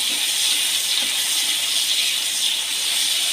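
Chopped small tomatoes added to hot oil left from frying tengra fish for a spicy curry, a steady bright hiss of sizzling throughout with no talk.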